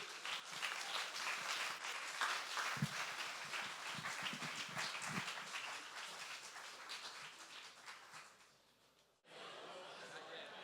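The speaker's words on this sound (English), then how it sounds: "So let's give Rob another round of applause." Audience applause at an Astronomy on Tap science talk night in Santa Barbara, a dense steady clapping from a crowd that carries for about nine seconds before cutting off abruptly, with a few low thumps mixed in.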